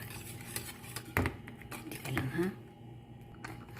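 Cake batter mixed by hand with a utensil in a bowl, no electric mixer, giving light clinks and scrapes against the bowl with a louder knock near the middle, while a voice talks throughout.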